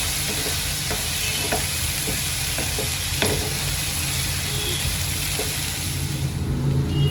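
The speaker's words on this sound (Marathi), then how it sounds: "आता या सर्वांना स्लो गॅसवर अजून मी पाच मिनिटापर्यंत चांगलं तळून घेते म्हणजे फ्राय करून घेते बटरमध्ये" Paneer bhurji ingredients fry in butter over a low gas flame with a continuous, even sizzle that lasts throughout, dotted with faint ticks and light clicks.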